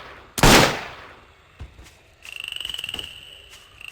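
A single loud gunshot from the game Trespasser, followed by a fainter second shot and a rapid rattling burst of repeated reports.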